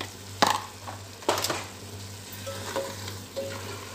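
Crushed chili and masala frying in a pan for kadhi pakora, with a steady soft sizzle under a few sharp stirring scrapes and clacks of a spoon against the pan.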